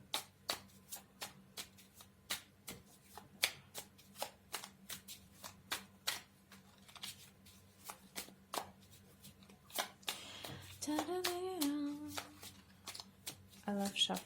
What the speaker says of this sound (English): I love shuffling cards.